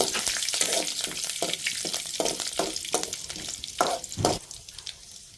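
Cumin seeds and curry leaves frying in hot oil for a village-style vegetable dish, a close crackling sizzle with rhythmic stirring scrapes and bursts of spitting.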